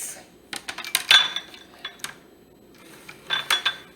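A knife slicing tomatoes on a board gives a few sharp clicking taps in a short burst, then a second cluster of cuts after a pause, close and crisp.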